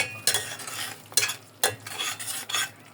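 Onions and green chillies are sautéed in a pan for a coconut hilsa dish, giving a low sizzle broken by several loud, rhythmic spatula scrapes and clatters against the metal, with no talking.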